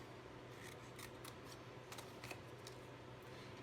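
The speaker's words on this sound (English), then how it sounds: "Then we're going to cut this little rectangle off right here." Scissors snip paper while a tissue slider box is being cut out: a few quiet, sharp cuts spread across a few seconds over faint, steady background hum, with nobody speaking.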